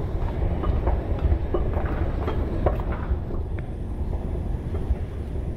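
A subway train in a video game rolls along its rails, a continuous loud low rumble with faint rhythmic clatter and airy whoosh, with no one talking over it.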